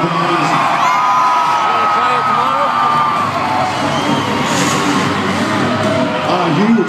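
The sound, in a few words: Monster Jam crowd cheering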